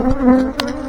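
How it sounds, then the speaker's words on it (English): Loud, continuous buzzing of a large honey bee swarm up close, a sustained drone that wavers slightly in pitch. "Nice swarm right there."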